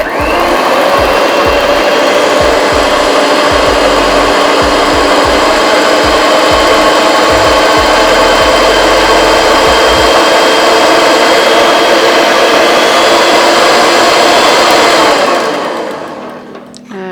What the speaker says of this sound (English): We're going to mix this on medium for around 3 minutes.